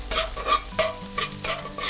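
Shrimp stir-fry in a hot, oiled frying pan with green onion, a close sizzling hiss broken by a few bursts of stirring and scraping, with no voices.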